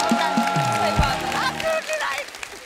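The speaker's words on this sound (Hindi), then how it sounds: "जोरदार तालियां हो जाए।" Studio audience applause on a Hindi comedy talk show, a dense burst of clapping and crowd noise mixed under a voice.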